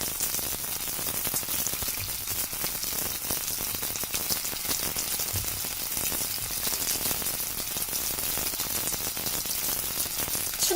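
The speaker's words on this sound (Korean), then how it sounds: "재료는 모두 익은 것이기 때문에 그냥 기름을 코팅해준다는 생각으로 구워주시면 됩니다" Rice paper glass-noodle dumplings pan-frying in oil, a steady dense crackling sizzle that fills the whole stretch evenly with no voices over it.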